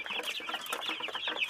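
A flock of about fifty brooding chicks on day 13 clucks and peeps in a dense, continuous chorus, close and lively, with overlapping calls and no pauses.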